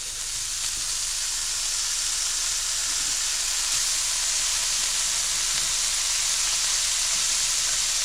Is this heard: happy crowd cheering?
no